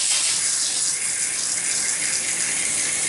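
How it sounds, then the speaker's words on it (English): Shower water runs from the cold tap of a two-handle tub and shower faucet, a steady loud hiss of spray and splashing that carries on without a break. "Why don't you go downstairs and turn that water back on for me, huh?"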